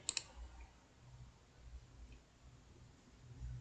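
A computer mouse clicks twice in quick succession right at the start, sharp and close, followed by quiet room hum with faint low rumbles.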